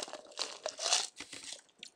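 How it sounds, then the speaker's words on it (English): Ice being chewed close to the mouth, with irregular crunchy bites and crackling over about two seconds, fairly quiet and without any talking. "Oh, sorry about me chewing ice,"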